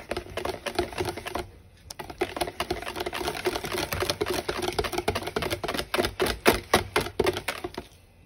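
Pistachio paste is stirred into pastry cream in a mixing bowl, giving a steady run of soft, wet tapping and scraping strokes close up, with a brief pause near the start.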